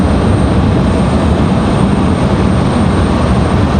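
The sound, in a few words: Delta Airbus A320 jet departing to Minneapolis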